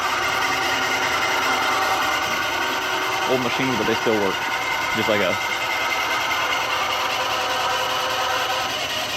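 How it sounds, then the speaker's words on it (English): A drill bores a hole for a bung in welded metal during a turbo K24 build on a 1998 Honda Civic in a workshop, making a loud, steady whirring grind throughout. A voice talks briefly midway. "let's drill in a hole for the bung"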